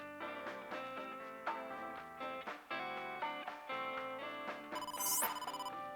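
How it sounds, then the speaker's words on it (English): A telephone rings in the video game AI: The Somnium Files, a bright electronic trill rising briefly near the end over steady background music. "There's a phone."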